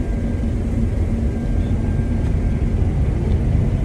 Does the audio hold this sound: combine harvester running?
yes